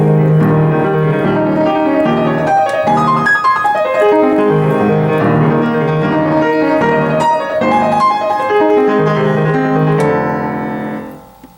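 Solo piano phrase played in an even, neutral way without dynamic shaping, a steady stream of chords and moving lines at a constant loud level that fades out on the final note.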